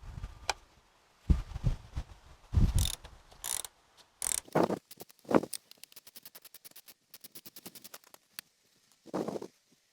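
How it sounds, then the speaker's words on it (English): A 13 mm socket wrench ratcheting a bolt off the intake of a 2002 Chrysler PT Cruiser during coolant expansion tank replacement, with quick bursts of close clicking pawl ratchets, a fast rattling run, and intermittent clunks of metal handling. "Use a 13 millimeter socket to do it."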